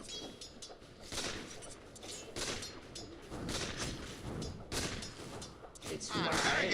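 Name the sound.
gunfire from the video game Dota 2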